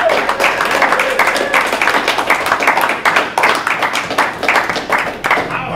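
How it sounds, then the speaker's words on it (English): An audience at a handball tribute event breaks into steady, enthusiastic applause, dense overlapping hand claps sustained at an even, fairly loud level with no talking over them. "I don't even have to cue people to applaud"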